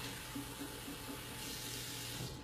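Tap water runs steadily from a faucet into a cup in a home kitchen, a constant close hiss and splash lasting the whole moment with no talk over it.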